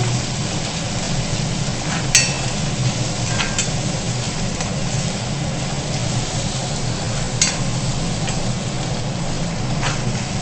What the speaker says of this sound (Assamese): পিঁয়াজখিনি ৰংচোৱা হোৱাকৈ অকণমান লৰাই থাকিব।